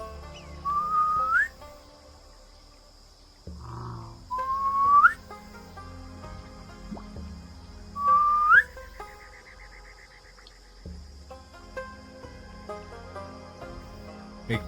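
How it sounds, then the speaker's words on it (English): Three separate rising whistles, each a short upward-sweeping tone, play as a sound effect during a tabletop role-playing game set in a swamp, spaced a few seconds apart over a steady faint background hum. "It is whistling."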